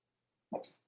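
A miniature schnauzer lets out one short, sharp bark or yip partway through, close and clear, with silence before it.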